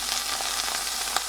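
Lamb meat frying in a pan for birria, a steady close hiss and crackle of sizzling throughout.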